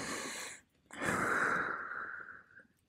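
Deep breaths taken in yoga child's pose, a short inhale then a long audible exhale tapering off, close and soft with no talking.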